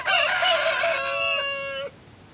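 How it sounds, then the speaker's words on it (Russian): Roosters crow loudly and close by with rising, held harmonic calls that overlap, joined by clucking hens squabbling at the start, in a farmyard flock. "Петушки уже начали отгонять курочек, да и между собой тоже разбираются"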